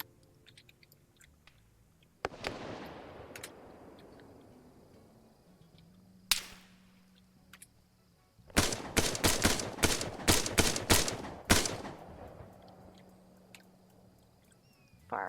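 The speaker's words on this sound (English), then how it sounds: "Firing back and forth here." Exchange of gunfire in an Arma 3 firefight between snipers and soldiers: a few scattered single shots and cracks early on, then a dense burst of rapid repeated shots near the end, loud against quiet gaps.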